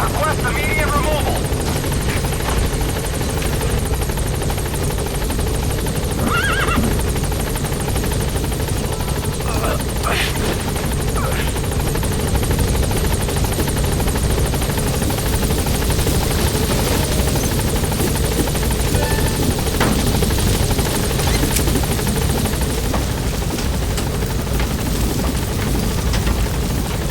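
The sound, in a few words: helicopter in Metal Gear Solid video game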